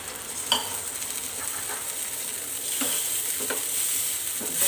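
Masala roasts with milk in a pan over low gas, a low bubbling sizzle holding steady while a few sharp spoon scrapes and taps land intermittently, close and quiet, no voices.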